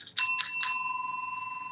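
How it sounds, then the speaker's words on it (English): A bicycle bell rings three quick times in close succession, each strike bright and metallic, with the ringing tone lingering and slowly fading afterward; no one speaks. "My bell doesn't want to ring on a slant."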